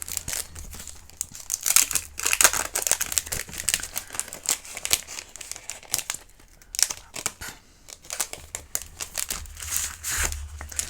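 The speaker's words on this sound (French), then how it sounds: "Ensuite, je vais prendre du papier de masquage." Masking paper for card-making being handled and peeled from its backing film, heard as close, continuous crinkling and crackling with brief tearing rustles, fairly loud and without speech.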